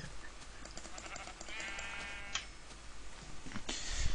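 A sheep bleats once in Minecraft, a short wavering cry of about a second, heard over busy ticking and game background noise.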